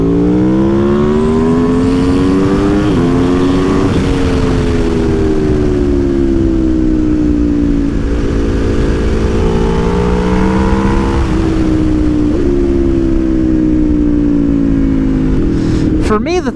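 A 2021 Aprilia Tuono V4 motorcycle with a newly installed aftermarket exhaust roars loud and close, its engine note rising and dropping through several rev swells and shifts over a steady rumble.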